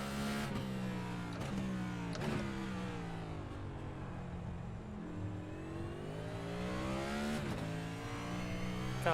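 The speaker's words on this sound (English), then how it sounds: "Gotta love over-revving it." A NASCAR Cup car in the iRacing game at Sonoma revs hard and over-revs through gear shifts, a loud continuous engine howl with sharp pitch drops at each shift and no talk.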